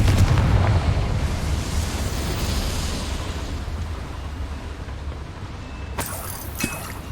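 A blasting spell detonates in the game Hogwarts Legacy, a loud booming roar at the start that rumbles and slowly fades into a long tail, followed near the end by a sharp crackling burst of debris.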